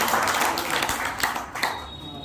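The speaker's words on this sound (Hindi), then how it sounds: "इन सबके लिए एक बार फिर से ताली बजा के इनका स्वागत करें" An audience at a cow-based natural farming seminar in India claps to welcome farmers, a dense steady patter of applause that gradually thins out.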